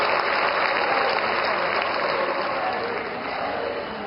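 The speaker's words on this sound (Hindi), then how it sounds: "आप सभी एक बार जोरदार तालियों के साथ माननीय हमारे देश के यशस्वी प्रधानमंत्री जी का स्वागत और अभिनंदन करें" Steady applause from a crowd welcoming India's Prime Minister at a political address in Dadiya, a dense continuous wash of clapping that tapers slightly toward the end.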